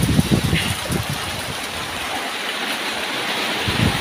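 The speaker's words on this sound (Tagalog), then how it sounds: "sobrang lakas ng ulan" Heavy rain pours down on a farm field, a dense, steady wash of noise with faint low thumps, close and continuous without pause.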